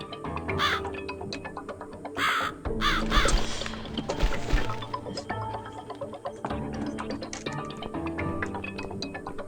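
A crow caws in the video game The Cat Lady, several short harsh calls early on, set against sparse ambient music and clicking effects.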